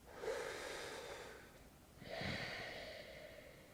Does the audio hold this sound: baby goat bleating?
no